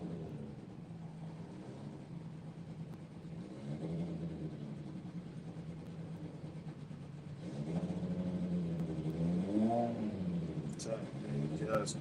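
A BMW drag car at Santa Pod idles with a low steady engine drone, then grows louder as it creeps forward into full stage with slight rises in revs, close and continuous.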